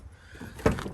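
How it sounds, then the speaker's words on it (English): A Nissan 350Z car door swings open with a single short, close clunk near the end of an otherwise quiet moment. "open that door"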